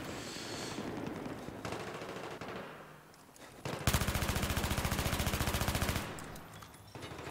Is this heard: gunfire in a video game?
yes